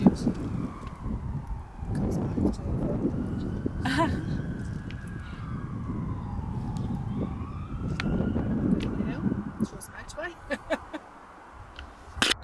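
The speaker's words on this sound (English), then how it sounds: "Wait a moment, please, because the siren and the ambulance." An ambulance siren wails as it passes outside a museum of military life in Cumbria, rising and falling in a long sweep that stays fairly distant and fades near the end, with people talking indoors.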